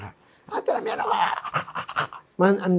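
A voice imitates labored, dying breathing: a run of ragged, irregular panting breaths up close, ending in a strained, voiced gasp.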